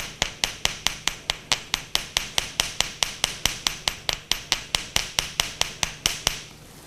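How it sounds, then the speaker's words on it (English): A jewelry hammer strikes copper wire in a fast, steady series of about thirty sharp, evenly spaced metallic taps, close and clear with no speech. "you can make smaller marks with this end of the hammer"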